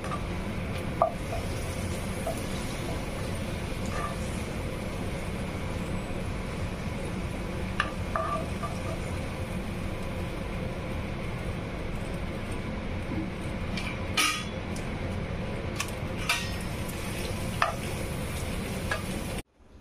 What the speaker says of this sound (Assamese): পাপৰখিনি ভাজি লম আগে।